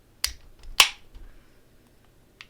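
A beer being opened, heard as two sharp cracking snaps close together, the second louder with a brief fizzing hiss trailing after it, then a faint click near the end, with no talk.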